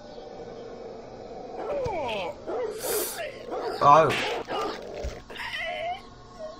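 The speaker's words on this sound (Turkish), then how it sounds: "Hah, köpek ısırsın." In the Whack Your Neighbor video game, a dog attacks a neighbor with growls, yelps and snarling bites in quick bursts, while someone talks over the game sounds.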